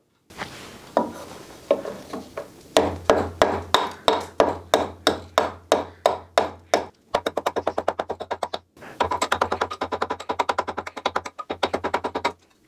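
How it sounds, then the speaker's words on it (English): Repeated hammer strikes driving a nail into hardened, stabilized meat, first slower and spaced, then a rapid run of sharp blows, with a low hum running underneath, close and loud. "I wonder if we can hammer in a nail"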